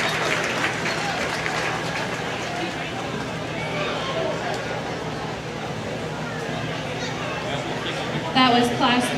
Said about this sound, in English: So give them all another nice round of applause